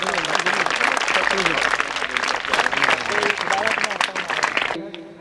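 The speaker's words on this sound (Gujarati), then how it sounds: "આપણે સૌ જોરદાર તાળીઓથી સન્માન કરશું એમનું." A large audience claps loudly and continuously to honour guests at a community event, dense applause with a voice speaking over it, ending abruptly at the close.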